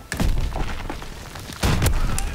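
Explosions boom in Call of Duty WW2 gameplay during a one-on-one match at headquarters, with deep thuds from two loud bursts over game noise and faint voices.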